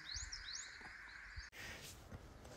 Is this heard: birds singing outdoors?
yes